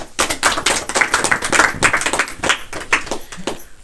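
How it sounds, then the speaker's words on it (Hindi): A church congregation at a Sunday service in Uttar Pradesh claps for Jesus, sharp, distinct hand claps in a loose, fairly regular rhythm filling the room, close and lively, with no talking. "एक बार यीशु के लिए ताली लगा दो"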